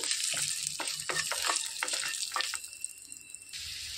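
Amla and coconut chutney stirred into hot tempering oil with asafoetida, a bright continuous sizzle with scraping stirs, loud at first and quieter toward the end.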